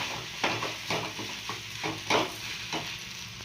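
Crumbled idli stirred into fried egg in a hot pan: a steady sizzle with repeated spatula scrapes and stirring strokes, close and alone without talk.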